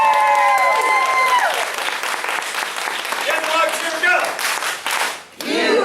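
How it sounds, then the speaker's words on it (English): Applause fills a family martial arts center in Mount Dora, Florida during a belt ceremony. A crowd claps steadily while voices and cheers rise over it, and the clapping thins briefly near the end. "Give him a big round of applause."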